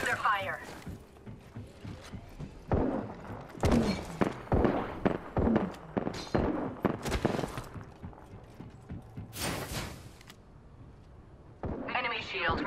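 Gunfire in Apex Legends arrives as repeated sharp cracks and short bursts spread across the clip, some close and loud, mixed with other in-game effects and callout voices.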